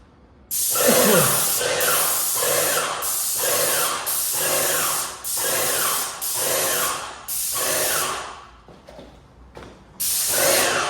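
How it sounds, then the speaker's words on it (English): An airless paint sprayer hisses in repeated bursts of about a second each while spraying a wall from 8 to 10 inches away, separated by short pauses, close and steady. "When you spray, you want to be about 8 to 10 inches from the wall."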